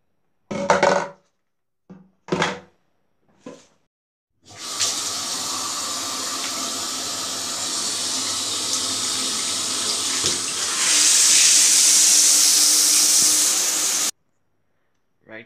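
Water runs from a home shower for about ten seconds as a steady loud rush that rises toward the end and then cuts off, preceded by a few brief bumps and handling noises.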